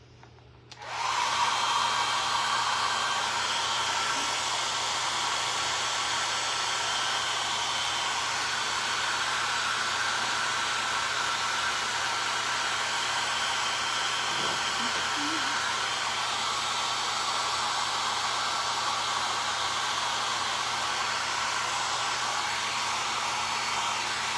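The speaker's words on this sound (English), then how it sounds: "let's blast this with the blow dryer" A handheld blow dryer roars steadily and close up, drying fresh paint on a hand-painted wooden fish sign. The airflow runs as one unbroken, loud hiss from start to finish.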